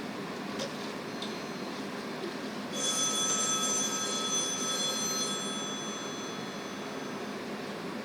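An old-style telephone bell rings once on the line during a radio drama operator call, a bright sustained ring of a few seconds standing out over a soft steady background hiss.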